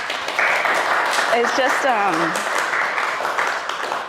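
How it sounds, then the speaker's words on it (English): An audience applauds at a startup talk: a broad, steady wash of clapping runs under a voice for most of the stretch. "Can we get a round of applause for that, please?"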